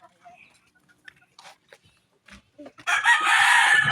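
A rooster crows loudly and close, one long sustained call near the end, after scattered quiet clucks and rustling.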